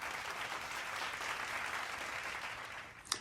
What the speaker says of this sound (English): You deserve a second clap.